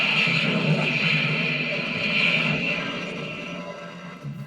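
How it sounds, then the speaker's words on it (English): A Back to the Future flux capacitor replica's time-jump effect: a loud, dense, sustained whooshing roar with a bright metallic shimmer running steadily throughout, easing off slightly in the final moment. "So the sound you hear when this does a time jump"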